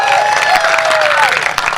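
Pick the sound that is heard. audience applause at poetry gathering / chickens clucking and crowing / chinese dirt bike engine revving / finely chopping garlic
audience applause at poetry gathering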